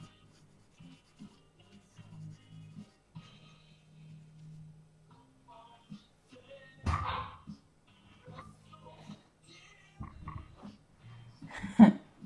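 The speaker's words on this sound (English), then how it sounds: "My dog's over there being a spaz." A dog barks and whimpers in short, uneven bursts at a moderate distance, with rubbing and shuffling noises between the yelps in an otherwise quiet room.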